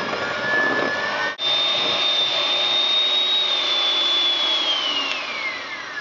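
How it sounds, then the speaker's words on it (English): An electric hand whisk runs at high speed beating Christmas cake icing, a steady loud whirring drone with a rising whine, briefly dipping once, with no talk. "So add the whisk, high speed,"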